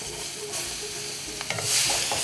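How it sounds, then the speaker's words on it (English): Onions going into butter and oil in a pan, a steady sizzle that swells and hisses louder near the end, with a few light clicks of stirring and no talk. "Stirring the butter in the oil so that it doesn't burn. Okay. And then I'm gonna put my onions."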